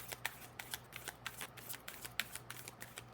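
An oracle card deck is handled and shuffled up close, a quick run of soft crisp card slaps and riffles in an even rhythm, quiet and alone.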